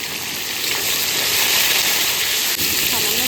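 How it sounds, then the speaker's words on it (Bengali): Cauliflower florets fry in hot oil with turmeric and salt, giving a loud, dense, continuous hiss that stays steady throughout. "আমি ফুলকপিগুলো এরকম করে ভেজে নেব"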